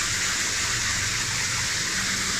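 A recirculating 'infinite' shower runs continuously in a bathroom, a steady, close, broadband rush of falling water with no break and no voices.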